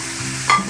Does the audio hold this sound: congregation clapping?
no